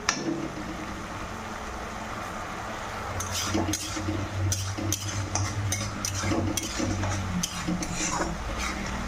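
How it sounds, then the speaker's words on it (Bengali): A spoon stirs bitter gourd seeds with turmeric and Kashmiri red chili powder in a pan, scraping and clinking against the metal over a steady low sizzle, close and continuous, with no talk. "এটাকে একটু মশলা করে কষে দেবো লাল লাল করে"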